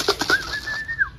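Pigeons beat their wings in a quick burst of soft flaps close by, followed by a thin, steady whistle-like tone that holds and then drops away.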